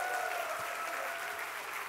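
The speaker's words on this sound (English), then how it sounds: "one more round of applause" Steady applause from the audience at a hackathon closing ceremony in San Francisco, a dense unbroken wash of many hands clapping at a moderate distance for the full two seconds, with no voices rising above it.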